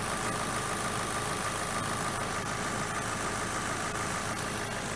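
Steady low rumble of a 2008 Audi A4 Avant's 1.8 litre petrol engine idling smoothly, close by, with no talking.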